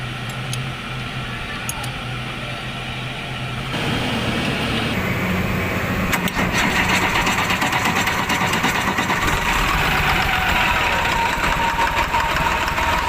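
A Caterpillar diesel engine is started after an oil change and settles into a rough, knocking idle, with a steady mechanical clatter that grows louder partway through and no speech.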